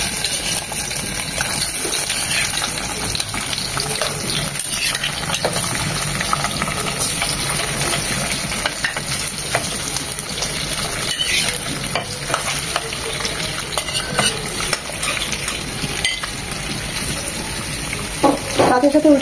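Catfish pieces rubbed with turmeric and salt hit hot soybean oil in a pan, giving a loud, continuous sizzle with spatters, clatter and stirring noises, close up throughout.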